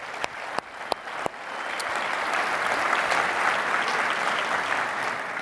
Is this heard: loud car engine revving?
no